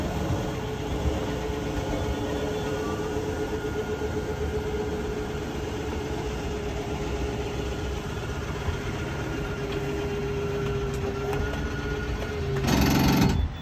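An RV slide-out's steady mechanical motor hum drones for a long stretch, then a short burst of rapid, loud clicking ratchets out from the rack and pinion as it reaches full extension.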